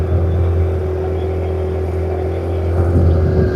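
A motorboat carries riders across a village pond, its engine giving a steady, close, low droning hum that holds throughout and swells slightly near the end.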